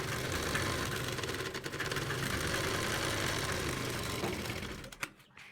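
A sewing machine runs steadily, stitching strips of salwar fabric, with a dense, continuous mechanical whir of needle strokes at close range that cuts off abruptly near the end.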